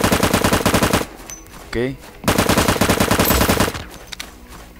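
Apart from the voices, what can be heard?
machine gun fire in the video game LifeAfter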